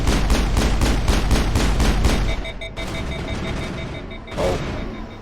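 Rapid automatic gunfire from the sci-fi shooter game Mass Effect, a loud dense burst of repeated shots for about two seconds, then quieter electronic tones and a later muffled thump.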